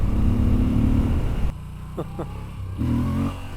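Moto Guzzi V7 Sport motorcycle engine running steadily, then dropping to a lower idle before a brief pair of rising revs and a return to a throaty, close-up rumble.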